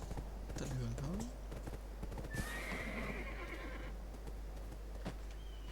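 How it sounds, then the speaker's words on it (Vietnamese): Horse riding in Black Desert Online: rapid clip-clop of hooves throughout, with a neigh and a long whinny, faint and under a voice speaking, plus some keyboard clicks. "Nghĩ chắc là làm mấy cái bộ này chắc là đi cưỡi ngựa."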